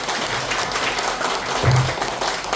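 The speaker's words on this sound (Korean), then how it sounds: "다시 한번 큰 박수 좀 보내주십시오" A large audience applauds at a Daejeon city council policy forum on railway plans, steady dense clapping that holds throughout and swells slightly near the end.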